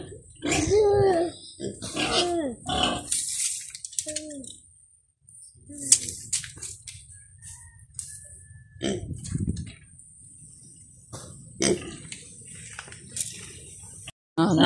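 Small pig grunting in short snorting bursts at close range among outdoor sounds, with people talking nearby and a low hum in quieter moments.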